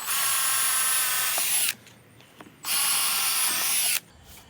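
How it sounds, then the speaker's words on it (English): Power drill with a 3/16 bit boring handle holes through an RV cabinet door front, two close, loud bursts of high-pitched whirring separated by a short pause. "take a 3/16 drill bit and use it as the guide."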